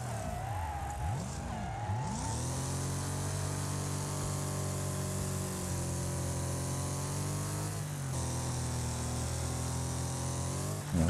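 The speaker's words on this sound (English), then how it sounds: "I hear a car right behind me." A race car engine in the Wreckfest sandpit race roars close behind the player, a loud sustained droning whine that shifts pitch as it revs, with tire noise underneath and no talk.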